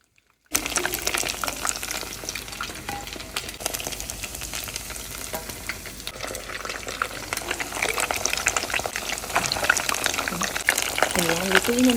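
Homemade fish balls fry in a hot pot of oil, a steady, dense sizzle and bubbling that runs for the whole stretch and grows slightly louder toward the end.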